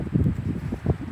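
Strong wind blowing outdoors, gusting as heavy low rumbling buffets against the microphone in uneven surges that fill the whole moment.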